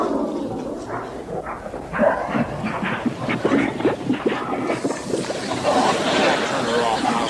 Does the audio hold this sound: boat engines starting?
yes